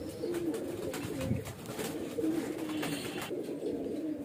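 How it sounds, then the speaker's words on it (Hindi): Young onion-coloured highflyer pigeons coo softly in low, repeated murmurs, fairly faint against a steady background hiss. "ये प्याजी कलर के कबूतर हैं।"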